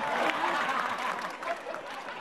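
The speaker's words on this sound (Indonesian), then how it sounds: "Ya sekali lagi tepuk tangan ya." A studio audience at a televised stand-up comedy show applauds with a soft, continuous wash of many hands, heard at a distance and fairly quietly throughout.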